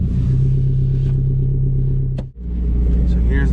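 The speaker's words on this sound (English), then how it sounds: "Have all the windows down so you guys can hear the exhaust." A 2004 Subaru WRX STI with a Tomei exhaust drones steadily from inside the cabin while driving with the windows down, a deep, loud rumble that dips briefly during a gear change and then resumes.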